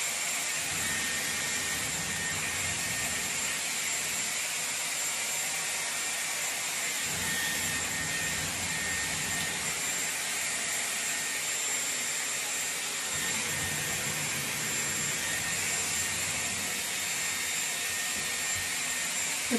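A Dyson Airwrap hair styler with a 40mm barrel runs with a steady, high-pitched whooshing whine close by, its airflow shifting slightly in a few spots as it is moved through hair, with no voices.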